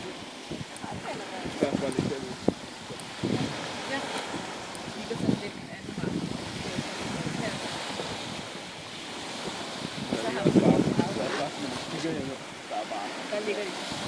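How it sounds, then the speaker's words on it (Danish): Wind buffets the microphone at a bathing beach in Marielyst as waves wash in and break with a steady surging roar, with people talking faintly now and then. "Sindssygt lækker badstrand."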